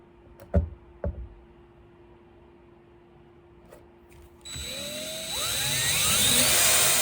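A couple of sharp knocks, then a power drill whirs up close, its motor pitch rising and holding loud and steady to the end.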